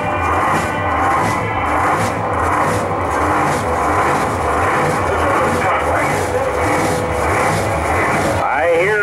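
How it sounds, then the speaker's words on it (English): A drag racing car engine at Great Lakes Dragaway roars from behind a tower, a loud, sustained rumble with pulsing texture and a rising rev sweep near the end. "Oh, that's a big power engine."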